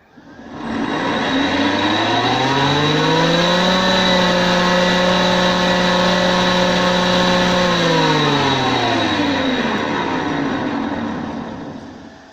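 An electric jointer planer is switched on, spins up to a loud steady whine and hum, runs for several seconds, then winds down to a stop. The sound is close, with no talk.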